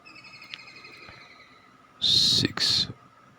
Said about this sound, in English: I think I know what that bird is. It's a kingfisher.